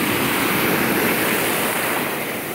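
An ocean wave washing up onto a sandy beach, a loud close broadband rush of surf and foam that swells and slowly fades, with no voices.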